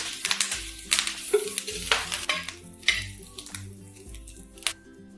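Green chilies roast in a little oil in a pan, soft crackling sizzle under repeated clinks and scrapes of a utensil stirring against the metal, with low hum in the background.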